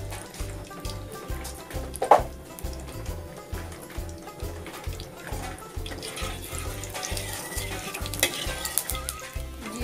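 A quarter teaspoon of cumin seeds tempering in hot oil for a Bengali egg tadka, a soft crackling sizzle over a low rhythmic background hum, with one sharp clink and faint watery noise, moderately quiet.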